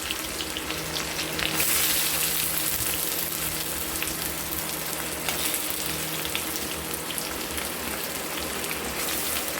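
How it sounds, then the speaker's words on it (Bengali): Chopped onions and whole spices frying for a dry chicken kosha hiss in a steady, rain-like sizzle that stays even and fairly loud throughout, with occasional stirring scrapes. "গোটা মশলা ফোড়নে দিয়ে আমরা দিয়ে দেব পেঁয়াজ কুচিগুলো"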